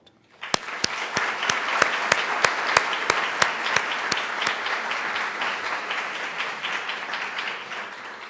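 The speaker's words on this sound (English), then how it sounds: "please join me in a round of applause to show our appreciation for their support" Audience applause at a 2018 physician assistant studies white coat ceremony, a steady wash of many hands clapping that starts abruptly and holds at an even level, with a run of sharper, regular claps standing out near the front early on.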